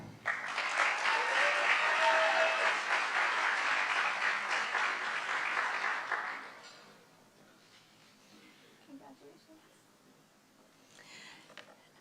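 Applause from a meeting audience during a service-award ceremony, dense clapping for about six seconds that stops abruptly, leaving a quiet room with faint rustles and small noises.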